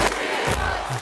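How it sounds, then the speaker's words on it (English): A live crowd roars with excitement, a dense, sustained wash of cheering voices played loudly over a stream, steady throughout with a brief swell near the middle. "Crowd's excited"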